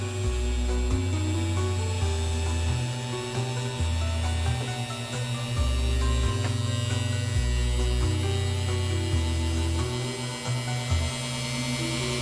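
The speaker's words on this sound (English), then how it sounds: "we are using the 600 grit Nova burr" A 600 grit Nova burr grinding an opal, heard as a loud, steady electric whine and hum whose pitch shifts up and down as pressure changes, close and continuous with no speech.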